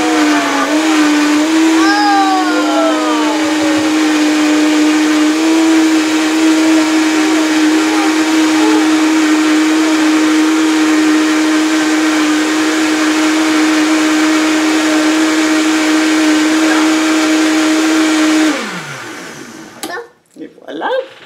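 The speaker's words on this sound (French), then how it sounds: "Pour l'instant, on met dans le blender." A blender whirring at a steady high pitch as it mixes pumpkin pie filling, running loud and continuous for about eighteen seconds before winding down and stopping.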